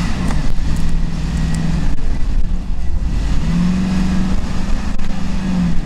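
Off-road car engine in a sand quarry, a steady low rumble that swells into two sustained revs, loud and close throughout.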